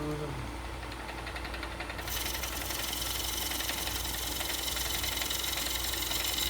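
Wood lathe turning while a gouge cuts the outside of a winged bowl: a steady motor hum, then, after about two seconds, a louder continuous rough cutting hiss with rapid fluttering as the wings pass the tool, close by.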